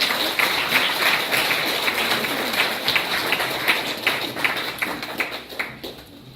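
A crowd at a political event welcomes a speaker from a democracy movement memorial foundation with a long round of applause, loud and thick at first, then thinning into scattered claps that fade out.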